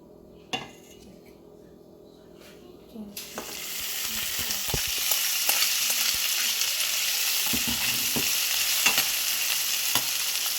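Oil dropped into a very hot pan for fried noodles with mixed vegetables: a few utensil clinks, then a sudden loud sizzle erupts and holds steady and close, with occasional metal taps against the pan.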